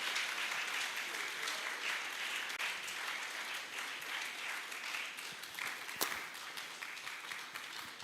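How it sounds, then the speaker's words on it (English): An indoor audience applauds continuously at a data fair for Africa Statistics Day, a dense, steady clapping that stays fairly faint throughout, with a single sharp louder clap near the end. "Shall we please applaud them for a good work done?"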